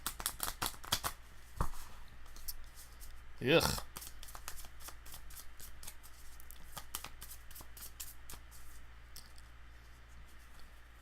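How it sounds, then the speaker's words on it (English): Someone ripple-shuffles a Magic: The Gathering Commander deck at close range, producing quiet crisp riffling bursts and light card taps in repeated spurts, with a brief groan from a voice. "Watching me ripple shuffle?"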